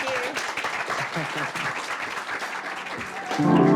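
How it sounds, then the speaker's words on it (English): Audience applause for a speaker at a design talk, a steady wash of clapping through the clip, with voices over it, swelling louder near the end. "Another round of applause."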